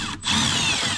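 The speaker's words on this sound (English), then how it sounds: "And put it in reverse and push so I can waller out that hole." A power drill runs in reverse, backing a screw out through plastic while fitting a refrigerator valve. The close, high motor whine cuts out for a split second, then comes back and holds steady.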